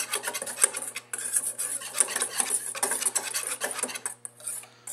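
Spoon or whisk scraping and stirring lemon juice into a runny lemon glaze in a bowl, a steady rasping, clinking rhythm of close strokes with no talking.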